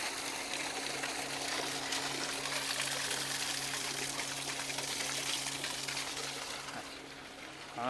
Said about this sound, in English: we're going to drain the water from the system